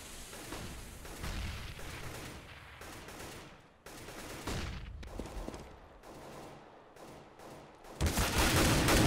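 Gunfire in a Counter-Strike match between Natus Vincere and n!faculty, with repeated volleys of rapid shots, some sharp single cracks, and a heavy closing burst.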